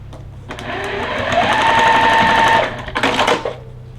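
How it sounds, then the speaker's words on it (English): A sewing machine stitches two pieces of fabric along a line on paper piecing, a close, rising whir of rapid needle strokes for about two seconds, followed by a short second burst. "we're going to stitch on that line between 1 and 4"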